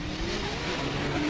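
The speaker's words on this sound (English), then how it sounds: "Achilles Radial S14 leaves the start" Achilles Radial-sponsored Nissan S14 drift car pulling away from the start line at a drift competition, a loud, dense engine roar with a steady rising tone, no voices over it.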